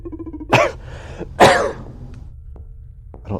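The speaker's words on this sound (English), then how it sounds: "I don't know why I'm having a cough now." Two sharp, close coughs about a second apart, followed by quiet breathing and faint small noises.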